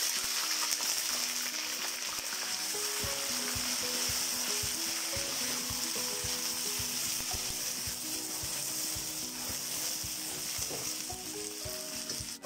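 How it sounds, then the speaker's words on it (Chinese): Chicken and sauerkraut stir-fry in a wok with a steady, loud sizzle. Rattling, clacking stirring strokes run through it, and no one speaks. "好，把这鸡肉炒一炒。"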